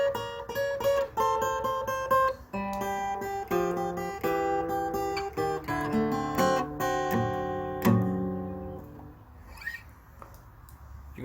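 An intro is played on guitar, picked notes and chord shapes high on the neck ringing out in a slow, loose blues phrase, close and alone without voices.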